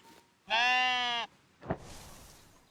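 A single goat bleat from the Tiny Glade game, a loud, clear, harmonic cry lasting under a second, followed by a brief softer rustle.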